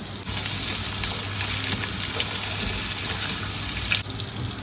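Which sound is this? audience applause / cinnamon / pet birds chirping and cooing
cinnamon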